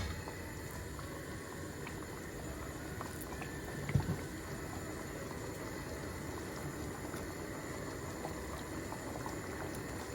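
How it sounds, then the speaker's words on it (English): Curry sauce for chicken kofta curry bubbles at a low boil in the pan, a faint, steady simmering murmur with one brief knock near the middle. "Once it's come to a boil, it's starting to bubble up."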